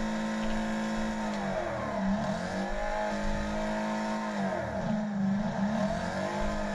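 A car based on the 1968 Mustang revs in the racing video game Wreckfest, with a steady loud engine drone that rises and dips through shifts and a brief reverse.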